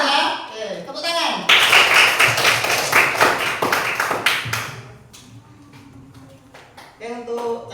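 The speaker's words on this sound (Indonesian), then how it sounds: "tepuk tangan" A classroom of students claps hands in a burst of quick, close, crisp claps that fade out, with a teacher's voice before and after.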